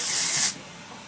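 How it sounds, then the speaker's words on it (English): A can of matte texture hair spray sprays in one continuous loud hiss for about half a second, then cuts off, leaving faint room noise. "It's not a dry shampoo, it's a texture spray, but it does have the properties of a dry shampoo."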